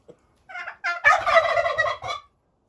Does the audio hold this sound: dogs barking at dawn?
no